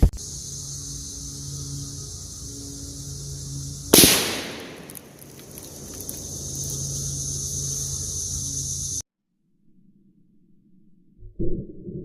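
A .223 rifle fires a 62 grain spire point bullet into a deer shoulder backed by ballistics gel, giving one sharp loud crack with a brief ringing tail over steady outdoor insect hum.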